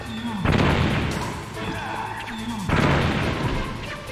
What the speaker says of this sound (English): I thought maybe grenades would be good, but it turns out I'm just blowing myself up.